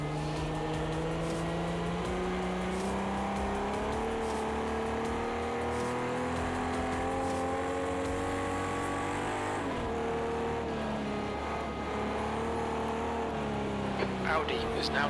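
Mustang race car in the Project Cars 2 racing game, an engine howling and climbing through the revs in long upshift sweeps, dropping pitch at gear changes, loud and continuous under a commentator talking.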